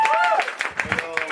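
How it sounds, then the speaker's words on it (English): Audience clapping for a comedian being introduced at a fringe comedy show, a loose patter of claps running throughout under a voice. "Please pay attention and start clapping."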